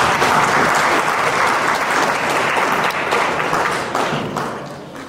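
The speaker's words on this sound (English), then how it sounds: "So I want you to give them a hand of applause." Loud, full applause from guests at an inaugural ball for a development association in Philadelphia, a thick roar of clapping that holds strong before tapering off toward the end.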